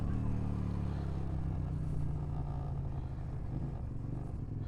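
A vehicle engine runs unevenly just off idle, a steady low rumbling drone with a rough, uneven quality throughout, close by and with no speech over it.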